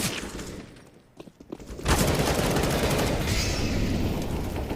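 Gunfire from a Counter-Strike: Global Offensive match at a high school esports finals, starting quiet with scattered shots, then a dense, loud, continuous barrage of rapid fire for the last three seconds.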